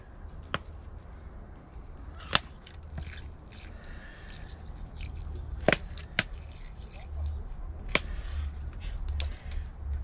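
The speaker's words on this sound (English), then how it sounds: "And what I need to do is wet the seeds." Seeds in dry compost on an allotment are wetted, giving soft trickling and dripping with a few sharp drops and splats over a quiet outdoor background.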